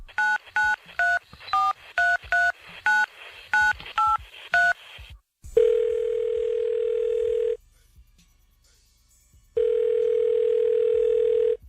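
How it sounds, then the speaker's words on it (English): Touch-tone telephone dialing with a quick run of DTMF beeps, followed by a steady dial tone that plays for about two seconds, stops briefly, then returns, loud and close, with no talking. "Let me call Dial Joe right now."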